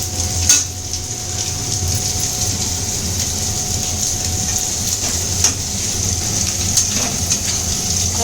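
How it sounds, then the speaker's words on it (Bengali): Fish oil and fat frying in a pan for a katla fish curry while being stirred continuously, a steady close sizzle with a few sharp scraping clinks of the utensil against the pan. "আঁচটাকে ক্রমাগত নাড়তে থাকছি যাতে মাছের তেলটা ভাজা ভাজাটা ভালো হয়"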